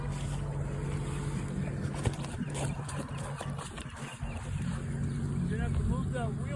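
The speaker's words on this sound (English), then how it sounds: "So what he's doing right now is he's gonna back up, put the trailer" A vehicle backs a trailer up beside a hay rake on a farm, its engine droning steadily with faint clunks and rattles, while people talk over it.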